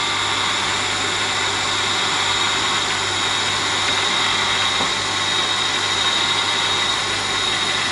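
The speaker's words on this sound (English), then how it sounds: "Now it's working its way back over the key." Silca Poker & Bianchi 105 automatic key cutting machine running steadily as it works back over a key, a loud continuous whirring motor and cutter drone with a faint hum beneath.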